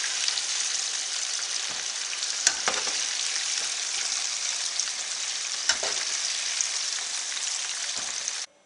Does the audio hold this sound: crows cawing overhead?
no